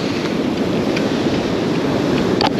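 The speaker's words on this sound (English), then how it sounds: "And there's the waves roaring." Steady roar of surf breaking on a beach, loud and continuous with no pauses, wind mixed into the rush.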